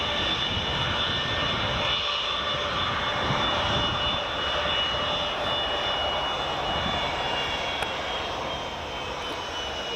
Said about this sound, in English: Yeah, it's 757.